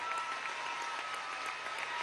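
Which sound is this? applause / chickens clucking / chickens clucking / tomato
applause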